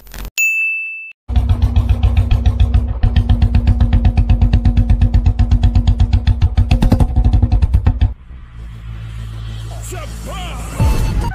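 A Royal Enfield motorcycle rides in with a steady, loud engine thump that holds for several seconds, then cuts to a quieter idle as it stops, with a brief bell-like ding at the very start.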